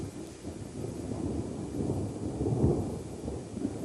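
Thunderstorm in the Serengeti: a low, continuous rumble of thunder rolls and swells over a steady wash of rain, with no voices.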